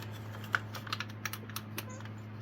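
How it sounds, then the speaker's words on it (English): A loose part rattles inside a Dayton smoke alarm as it is handled, making a quick series of light plastic clicks and ticks over a low steady hum, close and fairly quiet. "What's rattling in here?"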